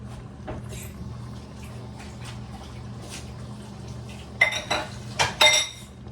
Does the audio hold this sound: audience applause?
no